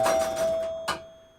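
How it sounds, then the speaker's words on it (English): Gottlieb chimes fitted to a 1973 Williams Travel Time pinball machine ring close and loud: a quick run of bright strikes, then one more struck tone that rings out and fades. "I just put Gottlieb chimes on it."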